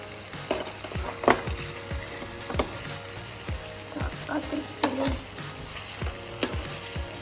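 Chicken tikka masala fries on a low flame, a steady soft sizzle of oil broken by repeated sharp scrapes and stirring knocks of a utensil in the pan, close and alone.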